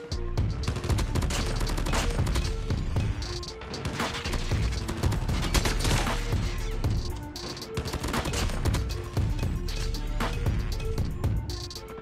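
Rapid SMG hipfire in COD Mobile, dense bursts of automatic shots rattling almost continuously for several seconds with brief gaps, loud and close against a steady game background.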